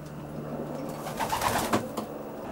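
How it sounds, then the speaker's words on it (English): A racing pigeon coos softly inside a loft, a few low rolling calls over a steady background murmur, heard at moderate distance with no talking. "Beautiful pigeon, beautiful."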